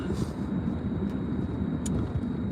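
A car's steady engine and road rumble while driving, a continuous low drone with no breaks, heard from inside the vehicle.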